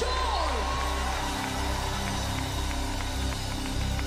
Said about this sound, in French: Est-ce que quelqu'un peut pousser un cri de joie au nom de Jésus